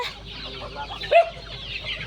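A native farmyard chicken gives a short, sharp cluck near the middle, close by, over faint background chatter from other fowl in a rural countryside yard.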